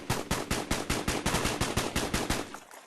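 A rifle in a video game tap-fires a full magazine: about fifteen evenly spaced, loud, close shots in a rapid steady rhythm, then a brief tail as the firing stops.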